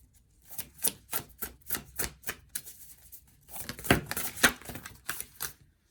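Tarot cards are shuffled in quick, crisp riffling bursts, about a dozen close, evenly spaced flicks followed by a denser run of snaps, with no talking.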